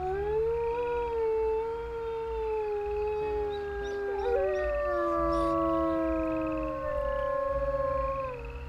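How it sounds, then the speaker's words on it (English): A wolf in a video game howls, long and loud, as several overlapping wavering tones rise and fall together for about nine seconds over a low steady hum. "One more howl, just to make sure."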